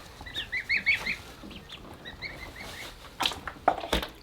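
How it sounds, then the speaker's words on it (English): Farm geese honk in short, scattered bursts at close range, some calls overlapping, with a few sharper clicks and knocks near the end. "Ducks and geese, like chickens, like greens, even more so."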